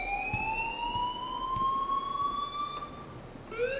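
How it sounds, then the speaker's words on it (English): An electronic alarm in the video game Life is Strange wails loudly in long, slowly rising tones, sustained for several seconds before a fresh sweep begins near the end, with no speech over it. "please turn off that alarm"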